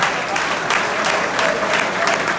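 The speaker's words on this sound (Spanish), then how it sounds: "Quiero que le den un aplauso a" Steady crowd applause at a live Latin salsa concert, dense and continuous with scattered cheering, no talk.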